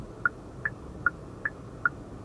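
Hyundai one-touch turn signal clicking, a soft regular tick-tock heard five times at steady intervals against a quiet cabin background, with no talking.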